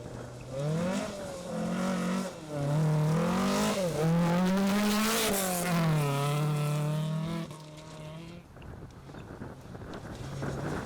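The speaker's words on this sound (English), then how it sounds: "spinning into the corner in the loose gravel and taking a moment or two to get going in the right direction" A rally car, a Datsun P510 among the field, revs hard while spinning through a loose gravel corner, engine pitch rising and falling in loud close bursts with wind rush, then dropping to gravel rumble.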